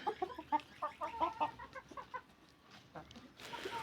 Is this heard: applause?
no